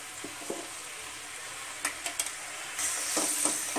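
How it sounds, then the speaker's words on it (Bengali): Fish in a pan with salt and turmeric for a bhola vetki jhal, frying with a steady soft sizzle while a spatula stirs in several quick scraping strokes, followed by a louder hissing burst near the end. "একটু ভালো করে নাড়াতে হবে"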